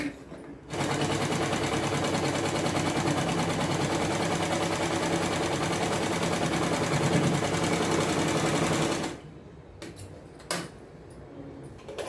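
A sewing machine stitches a seam on a young boy's pyjamas in one loud, continuous whirring run of about nine seconds, then stops, leaving a few quiet handling clicks.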